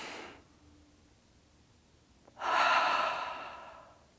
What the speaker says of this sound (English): I think exhaling with sound makes it more potent and powerful.